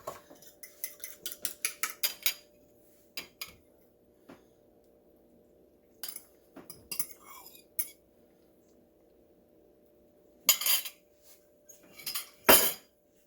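Metal utensil scraping and clinking against a frying pan while eggs seasoned with pepper are stirred and swirled, in irregular close bursts with quiet gaps, loudest near the end; faint low hum throughout.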